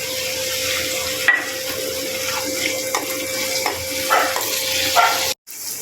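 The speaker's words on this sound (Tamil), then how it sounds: "வெங்காயம் வதங்கிடுச்சு தக்காளி போட்டுக்கலாம்" Onions and tomatoes fry steadily in a pan for a South Indian tamarind gravy. The sizzle is close and continuous, with light stirring clinks and a brief break near the end.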